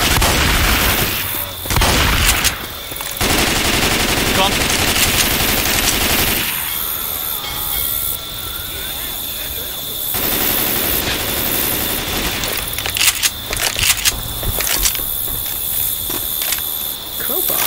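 Rifle and automatic gunfire in the zombie shooter Left 4 Dead 2 on the Dark Carnival campaign, loud rapid bursts with pauses between them and game ambience underneath, with brief player talk.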